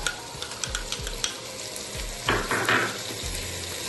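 Mutton pieces fry and sizzle in a pan with ginger-garlic paste while a spoon scrapes and stirs them in repeated quick strokes, with a louder burst of sizzling near the end.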